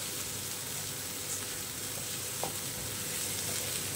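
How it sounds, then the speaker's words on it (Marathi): Tomatoes sautéing in a pan for spicy Maharashtrian misal give a continuous dense sizzle and frying hiss, close and even, with faint stirring clicks and no voices. "आपला आता टोमॅटोही छान परतून झालेला आहे"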